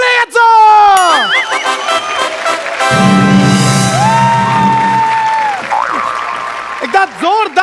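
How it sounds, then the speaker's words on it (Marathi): A studio audience at a Marathi comedy show claps and cheers to welcome a contestant, a loud burst of applause with whoops rising over swooping stage music and sound effects that continue before and after. "जोरदार टाळ्यांनी स्वागत करूया विपुल पाळे याचं"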